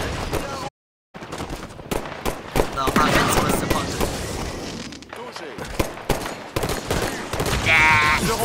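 A plasma pistol fires in Halo 5, giving a rapid run of sharp, crackling energy shots amid chaotic combat noise, with a voice speaking over the action and a brief dropout near the start.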